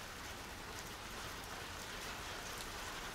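Rain in a BL visual novel game: a steady, even hiss of falling rain that continues unbroken at a moderate level, with no voices.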